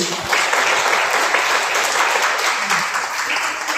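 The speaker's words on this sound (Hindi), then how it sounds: "सरोज सर के लिए जोरदार ताली होना चाहिए" An audience claps loudly and steadily at an indoor gathering, a dense wash of applause that continues without pause.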